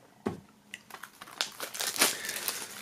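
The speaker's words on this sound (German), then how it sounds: "Erst noch die Folie abmachen." Plastic shrink-wrap film peeled off a CD jewel case, a close run of crinkling and crackling rustles with sharp tearing pops that thicken and grow louder toward the end, no voice.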